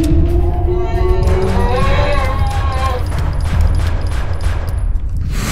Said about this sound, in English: I'm shooting you!